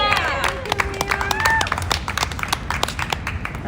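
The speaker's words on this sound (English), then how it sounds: "Okay, another round of applause for Liam." Crowd applause and scattered clapping at an outdoor Extinction Rebellion climate strike rally in Portland, Oregon, a dense patter of hands with some whistles and cheers rising early, then thinning toward the end.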